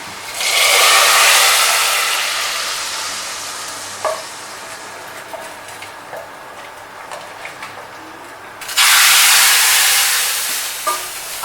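Tadka of cumin and garlic sizzling hard in a hot pan, a loud steady frying hiss that fades, with faint clinks between, then flares up loud again near the end.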